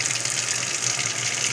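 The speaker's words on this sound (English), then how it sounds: "We are straining it under cold water so that it gets cooled down immediately." Cold tap water runs steadily over boiled noodles being strained in a sink, a close, continuous hissing gush.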